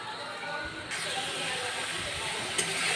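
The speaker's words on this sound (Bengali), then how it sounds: "মশলাটা তেল ছাড়ার অপেক্ষা পর্যন্ত আমি কষবো।" Spice masala frying in oil in a home kitchen, giving a steady, close hiss and sizzle that carries on without a break.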